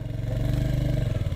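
A Royal Enfield Hunter 350 motorcycle pulls hard in third gear, its single-cylinder engine sending out a steady low, throbbing drone with a pulsing rhythm. The sound is close and loud, with no talk over it.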